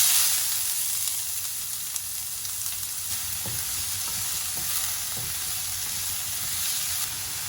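Chopped onions fry in hot oil for a prawn fry, giving a steady, close, even sizzle with faint stirring taps throughout and no voices.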